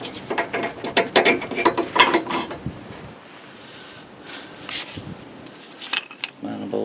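Rapid ratchet clicks loosening the bottom bolt of a front shock on a 2001 GMC 2500HD 4x4, coming in quick close bursts with metallic clinks and pauses between.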